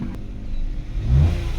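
A Hyundai Eon engine with low power and delayed throttle response revs briefly, a low rumbling rise and fall heard close by with no talk.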